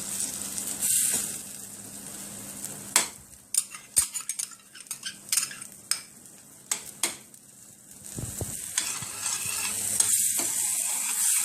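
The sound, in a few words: stirring vegetables frying in a pan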